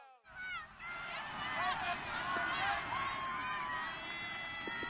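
A football stadium crowd cheers ahead of a big third down, a broad, loud roar with whoops and shouts rising over it, heard under a commentator's voice after a brief quiet start.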